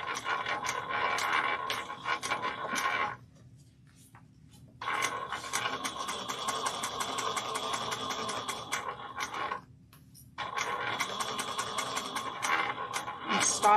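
A sewing machine stitches a quilted bag, running in a steady rapid mechanical chatter, pausing twice briefly before starting again, fairly close and moderate in loudness.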